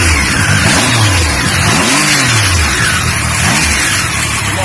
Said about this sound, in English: You can listen to the exhaust.